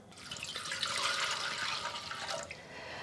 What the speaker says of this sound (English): I'm adding the liquids first. And so I'm putting 1 1/3 cups of water.